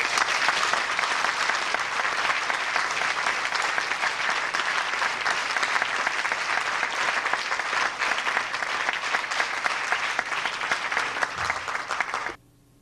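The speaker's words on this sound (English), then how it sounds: "I would ask you solemnly to give him a big clap." An indoor audience gives a speaker sustained, dense applause for about twelve seconds that cuts off abruptly near the end.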